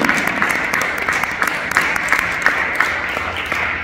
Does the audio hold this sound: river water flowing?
no